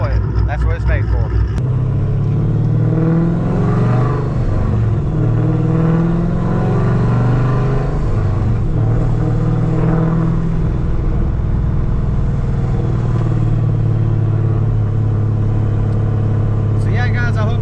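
A Mopar car with a manual stick shift drives along, its engine a steady loud rumble with a brief rev near the start, sustained throughout; a person talks over it.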